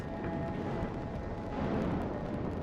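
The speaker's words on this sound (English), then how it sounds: "the first explosions shook the Deepwater horizon" Explosion aboard the Deepwater Horizon drilling rig as flammable hydrocarbons ignite, a dense, roaring, low rumble that stays heavy and sustained for a few seconds.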